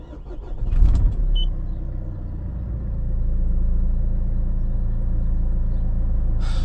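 An engine cranks and fires on a cold start, catching after a short burst of cranking and then settling into a steady, close idle rumble with no talking over it.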